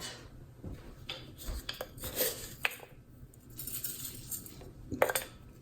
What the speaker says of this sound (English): So I will put them in a big bowl and keep on cutting.